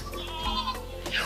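Goats on a farm let out short, wavering bleats, a few overlapping calls close by within a brief burst.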